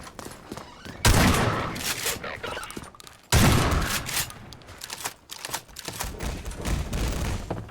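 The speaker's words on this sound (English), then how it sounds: "Again with the fucking grenades." Half-Life 2 MMod combat on Highway 17, with two heavy grenade blasts and rapid bursts of gunfire crackling between them, loud and close, under occasional voice.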